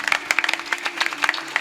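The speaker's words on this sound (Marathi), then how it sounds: "बाकीच्यांनी पण टाळी वाजवा बरं जोरात एकदा" A kirtan audience claps along in response to a call for loud clapping, with sharp, uneven hand claps repeating throughout, mixed with a steady low hum.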